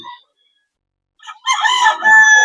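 A young rooster (stag) at a farm breeder's poultry sale crows once, loud and close, a strained rising call lasting about a second after a brief earlier chirp.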